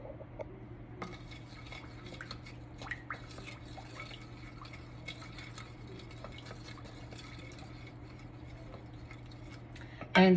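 A spoon works butter against the sides of a mixing bowl for anisette cookie dough, giving soft repeated scrapes and light clinks over a steady low hum, then a louder clatter at the very end.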